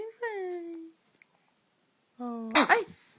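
A baby gives one sharp, close sneeze right after a short stretch of fussy vocalizing, then a small wavering cry follows; the sound is near and fairly quiet, with a brief silent gap before it.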